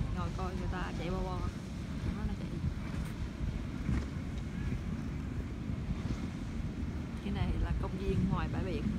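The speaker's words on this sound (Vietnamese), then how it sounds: "Ngồi coi người ta chạy bo bo." Motorboats running on San Diego Bay near a marina, a low engine drone mixed with gusty wind buffeting the microphone and lapping water, while people chat nearby.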